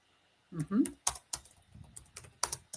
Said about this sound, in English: Yeah, me typing.